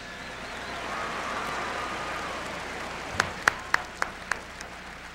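Arena crowd applauding 1999-2000 IHSAA Mental Attitude Award winners at a Class 3A state basketball championship, a distant, steady wash of clapping that fades toward the end, broken by a few sharp, close claps near the finish.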